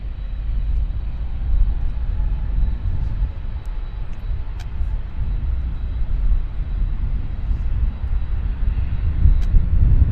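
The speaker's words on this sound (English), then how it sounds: "It's Porter. Embraer 195." A Porter Airlines Embraer 195 jet passes at Vancouver Airport with a steady, deep rumbling engine roar that holds loud throughout, heard from a distance without talk.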